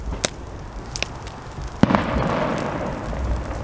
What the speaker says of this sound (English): Where's the fireworks?